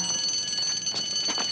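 An electronic alarm rings continuously and loudly in a shrill, steady tone, with faint movement behind it, in a scene from the 1989 drama Traffik.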